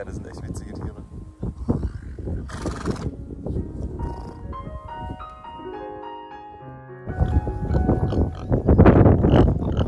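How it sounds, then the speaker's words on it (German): A horse gives a long, wavering whinny amid rustling and nearby voices, with snorting and movement sounds around it, in Spain. "Pferde sind echt witzige Tiere."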